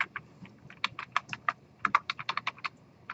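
Keys clack on a computer keyboard during a programming lecture, a quick uneven run of about twenty crisp close taps in bursts, no talking.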